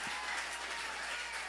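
A church congregation applauds in a continuous wash of clapping that stays even and fairly distant for the whole short stretch, with no voices over it.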